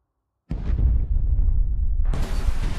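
A snake kaiju blows up in an anime battle: a sudden loud, deep blast rolls into a sustained rumbling roar, then a second harsh, hissing burst erupts about a second and a half later.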